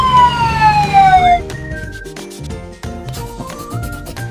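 Ambulance siren: a single long, loud falling wail sounds up close for just over a second, then gives way to bright electronic tones.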